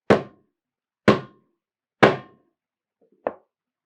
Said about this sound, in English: then 2 or 3 bangs with the hammer to hammer those 2 pieces together